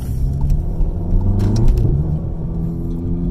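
A car engine drops a gear with a rev-matched downshift, a close steady rumble with a quick blip of rising revs in the middle before settling back to a low drone, no talk.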